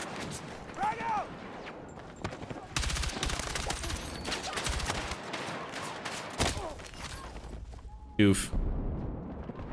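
Battlefield 6 combat with rapid bursts of gunfire and a frag grenade blast near the end, loud and dense, with a player's brief exclamation over it.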